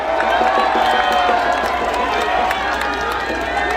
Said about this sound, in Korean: 여러분 박수 많이 보내주세요.